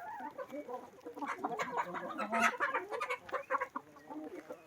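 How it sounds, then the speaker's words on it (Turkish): White chickens cluck and chatter steadily at close range in a coop, a busy run of overlapping calls with one louder squawk midway. "Bu biraz arkadaşlar beyaz tavuk."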